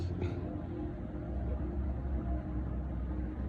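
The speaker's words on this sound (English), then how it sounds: "That's so weird, that noise. It just went up in pitch. Maybe that's just the car." A car engine idles near a roadside bus stop, a steady, fairly loud low rumble holding for the whole stretch with no talk over it.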